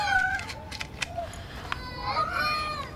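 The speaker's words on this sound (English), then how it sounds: "Must be a cat under the floorboards." A cat hidden under the floorboards of a house gives several short, faint meows, partly overlapped by nearby voices talking.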